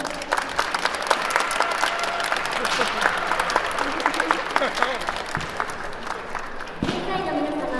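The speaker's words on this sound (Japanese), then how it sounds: "会場の皆様、盛大な拍手をお願いいたします。" A crowd in a hall claps loudly and continuously at a Gold's Gym Japan Cup bodybuilding contest, dense and sustained before thinning out near the end. A person talks over the clapping through an amplified announcement system.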